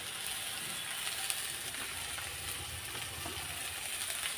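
Chopped greens hitting hot oil with potatoes already browned in the pan, a steady close sizzle and crackle filling the whole stretch without pause, with no talking.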